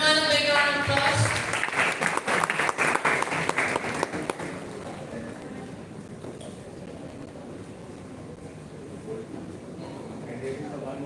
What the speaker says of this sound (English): Everyone, a big round of applause.